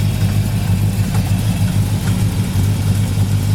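A built 1964 Pontiac GTO with the XM code engine runs at a steady, loud idle with a deep, continuous rumble and no pauses.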